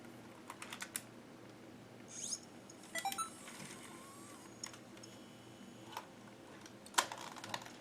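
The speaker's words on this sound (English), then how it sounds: "That is a very cute noise it makes when you load and unload the tape" A MiniDV camcorder's tape mechanism loads a cassette with a series of soft, close mechanical clicks, ticks and brief whirs, scattered irregularly over a quiet background.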